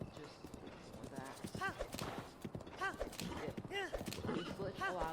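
A horse's hooves clip-clop in Zelda: Breath of the Wild, a steady rhythmic beat with occasional whinny-like calls, heard under continuous talk.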